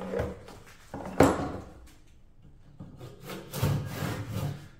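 Hand saw working through a square timber beam for a true-cornered squared piece, with a few broad rasping strokes and scraping pulses of moderate loudness, close by and with no talking.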